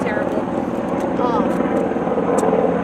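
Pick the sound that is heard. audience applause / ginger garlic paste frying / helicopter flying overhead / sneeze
helicopter flying overhead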